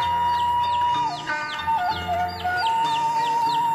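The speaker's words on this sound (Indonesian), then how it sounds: "Nah, gue ada anak ayam." Baby chicks in a rainy village chirp steadily, high and close, with repeated rising-and-falling peeps running throughout over a constant background hum and no talking.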